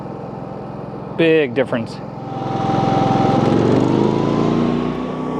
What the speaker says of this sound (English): Okay, so low idle, 23 feet away.